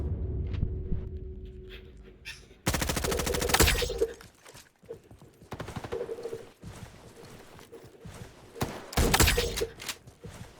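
A grenade blast and bursts of rapid gunfire in a Roblox front-line shooter, a loud sustained rattle of shots followed by scattered reports and a second sharp burst near the end, with faint background noise between.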